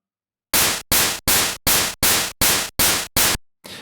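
Eight identical synthesized ride-cymbal hits from the noise channel of a Game Boy running LSDJ, evenly spaced bursts of bright hiss each decaying quickly, followed by a short quieter noise tail, with no talking.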